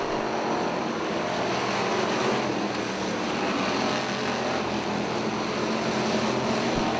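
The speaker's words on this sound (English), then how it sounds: "Preston McDowell now racing alongside Sunfield down in turn number 2." Pure stock race cars roaring around the Lake Ozark Speedway oval, a steady, dense engine drone that holds loud and continuous with no break or pause.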